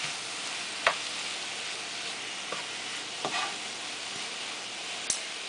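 Garlic sizzles steadily in a hot pan as a spoon stirs it, with a constant hiss broken by a few scraping clicks, close and fairly quiet, for pinto beans.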